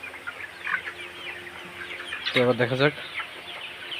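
Colour bird broiler chickens let out a short burst of loud clucking at a farm weighing scale, with a person speaking around them.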